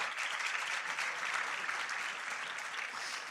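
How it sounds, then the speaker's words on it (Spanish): A church congregation at a youth service gives a steady, dense round of applause, heard fairly faint and distant and holding even throughout with no voices over it. "Dale un aplauso a Dios"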